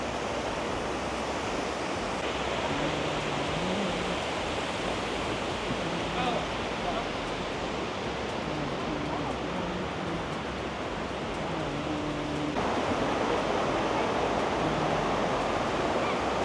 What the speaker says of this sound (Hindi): this is the other waterfall that I was talking about behind me